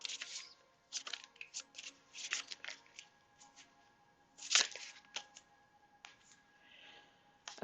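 Tarot cards being shuffled by hand in bursts of crisp riffling and flicking, several quick shuffles with short pauses between them, close and fairly quiet with no talk.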